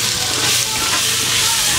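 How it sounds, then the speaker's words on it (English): Onions frying in seasoned oil for a butternut squash curry give a steady, close sizzle with a bright hiss that holds evenly throughout. "Saute these onions in this beautifully seasoned oil."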